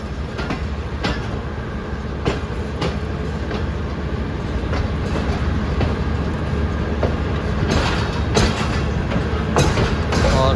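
The Allama Iqbal Express 10DN rumbles past loud and close, a steady rolling roar with repeated rail clicks and wheel knocks building toward the end, no voices.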